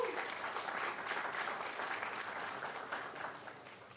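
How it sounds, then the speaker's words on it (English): An audience at an oratorical contest applauds the parents, a steady, dense wash of clapping that holds evenly from start to finish at a moderate distance. "So a round of applause for yourselves as parents."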